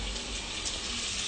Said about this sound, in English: need to wash my hands